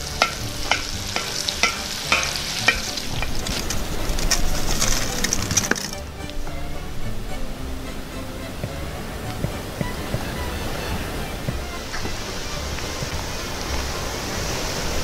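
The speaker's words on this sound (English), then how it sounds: "those onions look nice and golden and uh, they're transparent, translucent" Onions frying and being stirred on a discada disk outdoors, a constant bright sizzle with rhythmic metal scraping early on, then a steadier hiss with faint birds in the open air.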